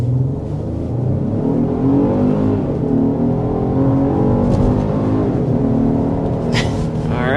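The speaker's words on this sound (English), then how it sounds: "let's go ahead and start with a hard acceleration" A 2025 Genesis GV80 Coupe with e-Supercharger accelerates hard past 60 mph, heard from inside as a loud, rising engine roar with climbing tones through the run and a brief gear-shift change near the end.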